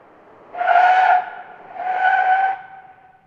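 A four-wheel-drive vehicle brakes hard on pavement during an ABS versus no-ABS test, and its tires give two loud, tonal squeals, the first sharp and the second longer, with quiet between them.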